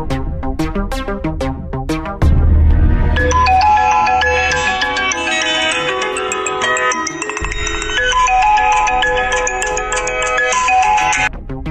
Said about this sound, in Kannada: ಆಫೀಸಿಂದ ಫೋನ್ ಬೇರೆ ಬರ್ತಿದೆ.